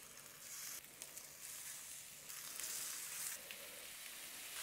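Chicken kebab pieces sizzle steadily in a hot pan on a stovetop turned down to medium heat, a continuous close frying hiss that swells slightly as more pieces go in, with no talking.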